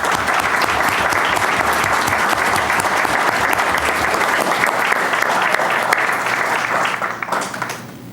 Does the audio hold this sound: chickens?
no